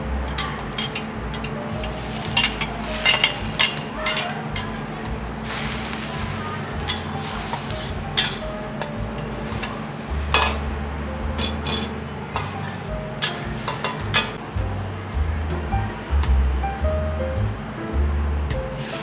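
Chicken pieces simmering in a pot of water for soup, giving a steady bubbling, ticking wash with a low hum beneath, fairly close and continuous with no talk.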